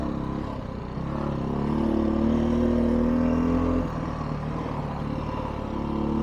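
A Beta 500 dirt bike with an oil-injected TPI two-stroke engine runs close by, holding a steady drone that rises in pitch for a couple of seconds, then drops back to a rougher idle-like note.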